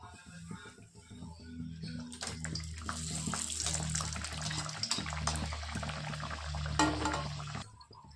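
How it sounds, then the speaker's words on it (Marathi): Small sesame-seed puris slid into hot oil in a kitchen pan, a bubbling hiss that swells and stays steady, close by, with a voice speaking faintly underneath. "हे बघा असं तेल गरम झालंय, मी आता सोडत आहे।"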